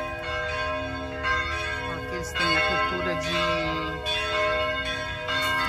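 Church bells peal steadily and loudly at noon, rich overlapping tones ringing on and on, while a person speaks briefly over them.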